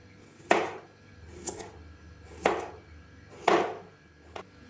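A knife slices a fresh cucumber into thin rounds on a board: four crisp, evenly spaced chops about a second apart, close and clear, with soft rustling between strokes.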